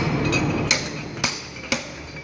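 Hammer tapping a bearing onto a heavy duty truck transmission input shaft: three sharp metallic taps at an even pace, close and clear.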